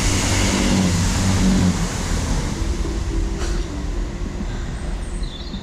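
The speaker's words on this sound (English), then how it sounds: "I thought I'd stop at this overbridge and see if there were any trains coming." A train rushes beneath a railway overbridge as a loud, broad roar that is strongest at first and then eases into a steady, fading rumble.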